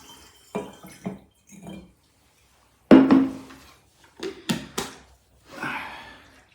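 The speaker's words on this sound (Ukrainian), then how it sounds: "Заливаємо спирт у воду." Alcohol poured into a container of water for a hawthorn tincture gives intermittent splashing and trickling bursts, with a louder pour near the middle and quieter drips and clinks between.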